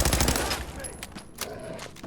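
A rapid burst of gunfire erupts in the post-apocalyptic game Fallout 4 during a raider fight, a dense, loud string of shots that thins into a few scattered cracks.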